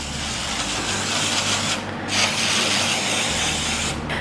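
Cooking spray hisses steadily into a 9x13 baking pan, close and loud, with a short pause midway and another near the end.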